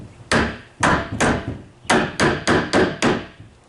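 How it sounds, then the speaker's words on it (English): A hammer taps plastic parts back into a Rehrig garbage cart with about eight sharp, loud, evenly spaced knocks in two quick runs, close by and with no talking. "To put them back in, just take a hammer."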